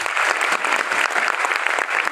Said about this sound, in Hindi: मैं चाहता हूं यार उस इंसान के लिए जरूर जोरदार वाली ताली